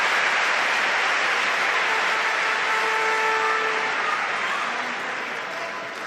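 Loud, sustained applause and roar from a packed arena crowd at a world table tennis championship match in Düsseldorf, Germany versus China, a dense continuous wash of clapping that eases slightly toward the end.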